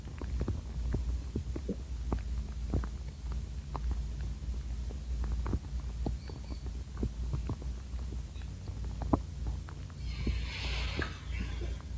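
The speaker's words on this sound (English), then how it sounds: "And this is the sound of garbanzos decaying." Decaying garbanzos give off a soft, sparse crackle of tiny irregular clicks and pops over a steady low hum, faint and intimate, with a brief hiss near the end.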